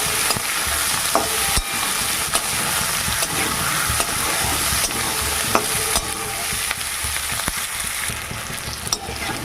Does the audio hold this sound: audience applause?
no